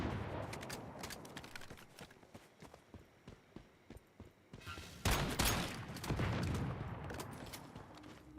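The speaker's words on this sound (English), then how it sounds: "Why are they all exploding?" Rapid bursts of explosions and gunfire in the survival video game Once Human, with a dense cluster of blasts crowding the second half of the moment; no one speaks.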